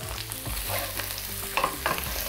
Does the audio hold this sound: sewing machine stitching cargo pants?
no